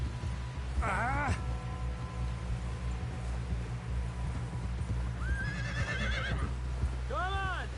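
A horse in the video game Red Dead Redemption 2 whinnies several times, with shrill rising and falling neighs near the start and end over steady hoof clip-clop and a low background hum.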